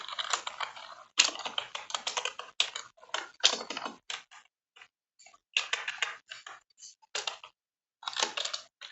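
Rapid typing on a computer keyboard, up close and fairly loud, in quick bursts of keystrokes broken by short pauses and one longer gap near the end.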